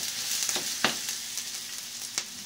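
Garlic fries in hot oil in a wok, a soft steady sizzle broken by a few sharp scraping clicks of a spatula stirring, fairly quiet, with no one talking.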